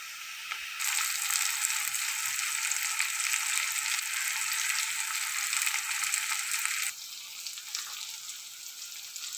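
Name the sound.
sautéing onion with ginger garlic paste in a pan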